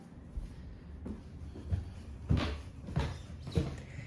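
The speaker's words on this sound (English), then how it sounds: "And it is creaky because it's an old home." Stairs in a 112-year-old house give a series of soft creaks and thuds under slow, irregular footsteps, quiet and close in a hushed room.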